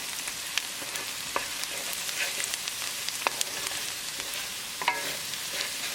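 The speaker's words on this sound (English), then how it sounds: "Cook spices along with tadka for 1 minute." Spices cooking with tadka in a pan, a steady soft sizzle with occasional stirring scrapes and small pops, close and without talk.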